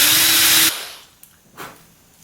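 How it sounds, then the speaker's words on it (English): Power drill boring a dowel hole, a loud steady whine that cuts off abruptly, followed by a few faint knocks and handling sounds. "So I'm going to drill this, not all the way through, but just down"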